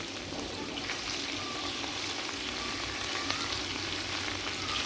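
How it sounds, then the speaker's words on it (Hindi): Garlic ginger paste fries in a pan for chicken jalfrezi, giving a continuous, even sizzle that is close and soft with no breaks. "लहसुन अदरक हमने अच्छी तरह भून लेना है"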